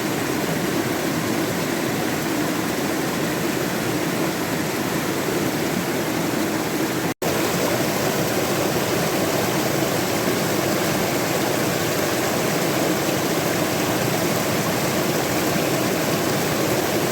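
A small waterfall at Promised Land State Park, a steady, loud, broadband rush of falling water that holds constant throughout with only a momentary break.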